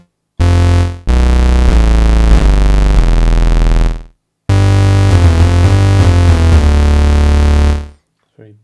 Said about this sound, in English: I want to add a bass sound. Already created this bass sound on the Rev2 as well.